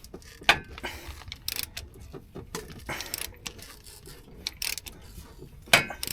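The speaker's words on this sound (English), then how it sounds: "We're gonna turn the crank while pulling on this belt" Crank being turned on a 2018 Mazda CX-5 engine while the belt is pulled off, a series of faint mechanical clicks, ratcheting and rubbing scrapes, close and irregular, with no talk.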